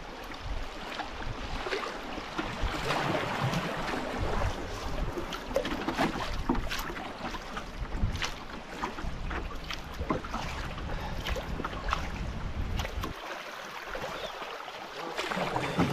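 A fast-flowing spring river rushes steadily past a canoe in Algonquin, a continuous hiss of current with wind buffeting and occasional paddle or hull knocks, moderately faint.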